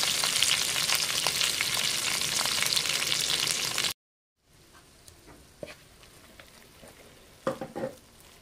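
Curry leaves and onions sizzle loudly in hot oil for a mint chutney, a dense steady frying hiss that cuts off abruptly, then returns quieter with a few sharp spits and stirring clatters.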